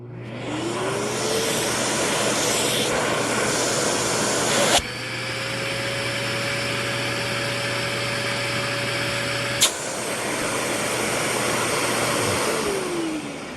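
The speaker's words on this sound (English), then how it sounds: "Suction from the end of the hose on max." A Bosch Premium Electro Duo XXL vacuum cleaner running on max suction at the end of its hose, a loud steady whine with the pitch rising and falling as the opening is blocked and released, plus sharp clicks.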